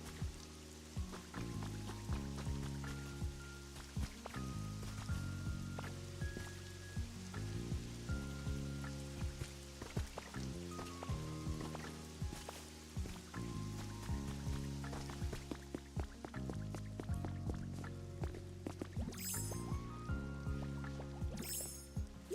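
Steady rain patters and drips throughout a gentle game scene in Pokopia, layered over a looping melodic music bed, continuous and moderately loud with no talk.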